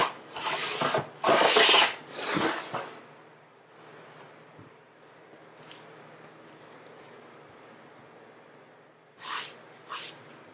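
A hand plane shaves the edge of an acoustic guitar top plate. Several close, rasping strokes come in quick succession at the start, then a long quiet stretch, then two more short strokes near the end.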